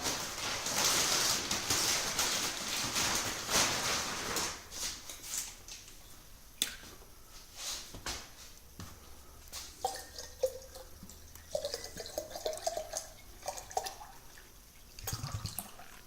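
Water pours and trickles onto a potted orchid, followed by scattered drips and small splashes close by, with no talking.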